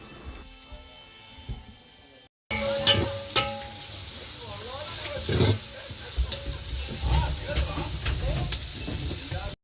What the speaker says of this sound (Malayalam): നമ്മൾ നേരെ സവാളയും പച്ചമുളകും ഇഞ്ചിയൊക്കെ ഇട്ടിട്ടൊന്ന് വഴറ്റിയെടുക്കുകയാണ്